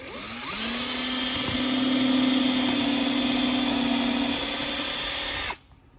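Power drill boring a screw hole in wood, a loud steady whine that starts right away, holds for about five seconds and then cuts off abruptly.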